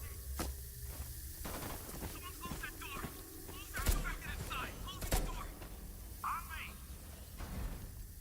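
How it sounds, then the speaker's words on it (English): Gunfire in a first-person video game: two sharp, loud shots ring out a second apart, with fainter crackling shots around them, while someone talks over the action. "Why are they shooting at me?"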